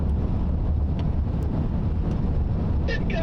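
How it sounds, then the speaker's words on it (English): Strong wind roars and buffets against the microphone during a tornado storm chase in South Dakota, a constant loud low rumble with faint distant tones and no clear speech. "It got freaking windy back in there."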